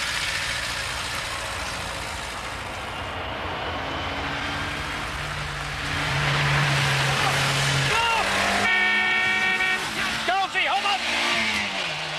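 A car on the move: steady road and engine rumble fills the whole stretch, growing slightly louder partway through, while people talk over it inside the vehicle.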